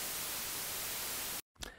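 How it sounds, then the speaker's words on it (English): Broadband white noise played as a demonstration, a steady dense hiss that fills the first second and a half before cutting out abruptly, followed by a brief noisy fragment. "So white noise sounds not very pleasant, but a little bit like this."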